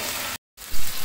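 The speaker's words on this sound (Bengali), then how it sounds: "এখন এগুলোকে আর কিছু 1 মিনিটের মতন ভেজে নিব আমি" Ginger and garlic sizzle steadily in a hot pan while being fried, with a brief silent gap partway through before the close, loud frying resumes and swells.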